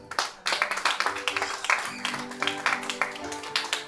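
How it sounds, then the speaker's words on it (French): A church congregation claps and cheers together during a Sunday service, steady bursts of applause with voices rising underneath, fairly loud and close. "Si tu es béni, donne les meilleures acclamations."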